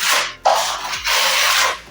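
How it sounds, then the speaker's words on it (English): Render being smoothed by hand across a concrete ICF pool base, heard as a close, steady rasping rub in long strokes with a brief pause between passes, loud and unaccompanied by voices. "Just a final bit of smoothing on the base."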